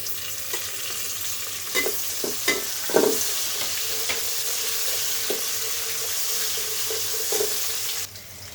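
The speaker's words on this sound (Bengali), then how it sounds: "আমার রসুনটা একটু হালকা বাজতে একটু ব্রাউন হয়ে আসলে আমি এবার শুকনো মরিচগুলো দিয়ে দিব" Garlic and dried red chillies fry in hot oil for a sour-sweet mango pickle, giving a steady close sizzle with a few brief stirring clatters, and no talk.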